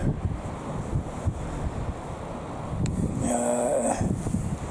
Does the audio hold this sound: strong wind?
yes